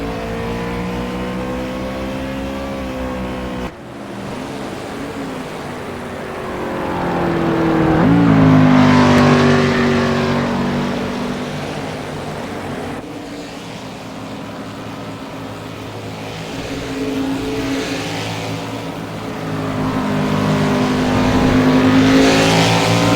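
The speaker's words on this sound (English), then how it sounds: "Cowboy, who recently passed Lucky Tito for 5th, is at Miss Shortcut's bumper for 4th." NASCAR stock cars race in Japan, engines rising and falling in pitch as they accelerate and pass, a loud continuous roar with sweeping surges heard from trackside.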